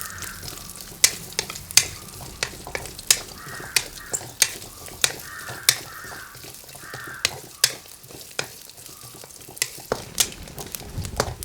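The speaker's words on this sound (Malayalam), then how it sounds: "തേങ്ങ ഒന്ന് വറുത്തെടുക്കാൻ വേണ്ടിയാണ്. തേങ്ങ ഇട്ട് കൊടുക്കാം." Grated coconut sizzles steadily as it roasts in a pan for ash gourd halwa, with frequent sharp clicks of a utensil stirring against the pan and crows cawing faintly in the background.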